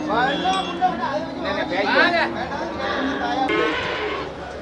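Cattle mooing at Melapalayam cattle market in Tamil Nadu, several drawn-out lowing calls close by and overlapping, with market chatter and people talking in the background.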